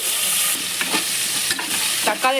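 Garlic and tomatoes with shallots and curry leaves sizzle loudly in a hot pan for sambar rice, with a constant close frying hiss broken by a few stirring scrapes.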